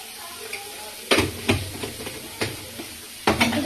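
Spices for palak paneer, with garam masala powder, being stirred and fried in a pan: several sharp scraping stirs over a low sizzle, fairly close, with no talking.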